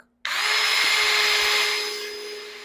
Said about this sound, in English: I'm going to go back with the drill, and I'm just going to sand the bottom of this real quick.